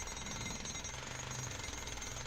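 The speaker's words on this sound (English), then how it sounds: "or if you like jackhammering." A jackhammer breaking rock, powered by a cord, hammering in a steady, continuous loud rattle throughout with no pauses.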